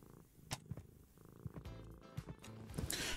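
A cat purrs softly in the video game Thief Simulator 2, a low, steady rumble sitting under scattered game sounds and clicks.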